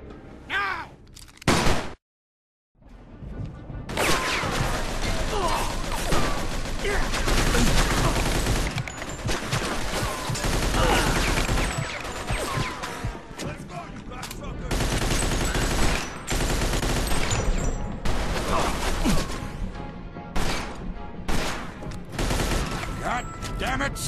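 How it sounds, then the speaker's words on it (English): Sustained gunfire rages through the ending shootout of the video game Mafia 2, with dense bursts of automatic weapons and rapid shots over about twenty seconds after a brief silence, loud and close, with occasional shouted voices mixed in. "Let's shoot this cocksucker."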